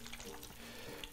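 Torrijas, bread slices soaked in milk and egg, fry in hot oil with a faint, steady broadband sizzle and crackle that runs throughout, with no talking.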